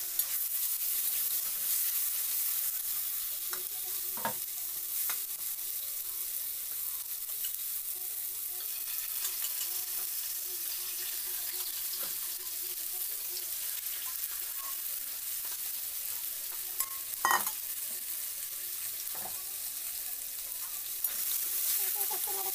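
Chopped ginger, onion and tomato fry in a pan with a soft, quiet continuous sizzle, broken by a few sharp clinks of a utensil against the pan.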